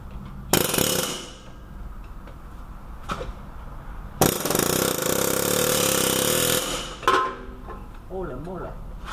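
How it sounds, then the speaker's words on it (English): Loud pneumatic impact hammering driving out a front axle on a Nissan Murano AWD, in two long bursts with a brief hit between, ringing metallic and harsh, followed by a short wavering tone. "I'm going to take my impact hammer and try to shoot it out this way."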